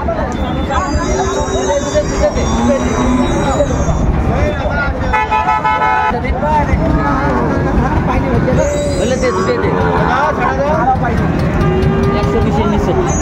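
Cattle, including Sahiwal bulls and calves, moo amid a busy outdoor livestock market crowd, with people talking throughout and a vehicle horn tooting in the background.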